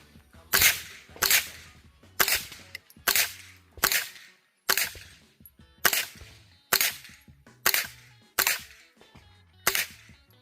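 Suppressed .22 shots from a Taurus TX22 Competition pistol fitted with a HUXWRX Flow 22 titanium suppressor, ten sharp cracks in a steady series about a second apart, close and loud with no talk.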